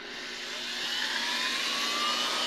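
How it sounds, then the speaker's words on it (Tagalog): An electric blower spins up on a DIY speed controller made from a broken blender's parts, its whirring hum rising steadily in pitch and loudness, close and unbroken with no talking. "Dito sa blower muna tayo. On natin."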